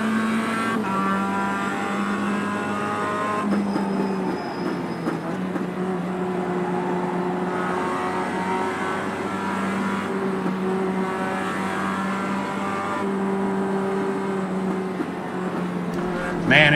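Mazda MX-5 Cup race car in iRacing at Road Atlanta, its engine holding a steady, continuous drone at a rolling pace, close and full throughout with faint tire noise and a brief tonal whine, no speech.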